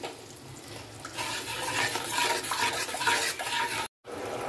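Patol curry being stirred and sautéed in a pan with fish oil, a steady sizzle and scraping that run close and continuous, cut by a brief silence near the end.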